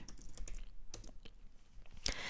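Git commands are typed on a computer keyboard: a short run of crisp, close key clicks with irregular spacing and a final heavier keystroke, with no talking.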